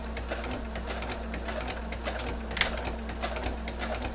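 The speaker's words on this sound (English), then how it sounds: "Let the two walking feet, the one on top and the one at the bottom, grab and move your fabric." A sewing machine with a walking foot runs at a steady, fast, even stitching rhythm while quilting a fall table runner. The mechanical clatter is moderately close and continuous, with no talk over it.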